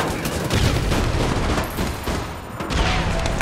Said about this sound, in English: Oh, whose grenade was that?